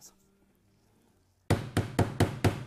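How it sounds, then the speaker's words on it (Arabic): A nail is struck with a hammer five times in quick succession after a quiet stretch, each blow a sharp, loud knock close by. "انا ادق المسمار"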